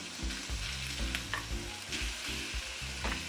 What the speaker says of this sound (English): You want to let your skillet get hot enough so when you put your small cut pieces of bacon in,